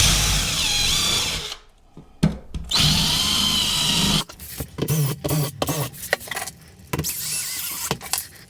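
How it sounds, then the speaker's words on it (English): Power drill pre-drilling holes in wood during a pantry remodel, several short loud whirring bursts separated by pauses, with faint background noise between them. "I'm gonna be pre-drilling the holes first."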